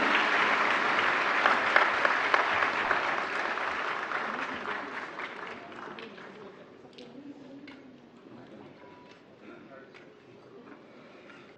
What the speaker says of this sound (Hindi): जोरदार तालियों से सभी पुरस्कार विजेताओं का मनोबल बढ़ाएं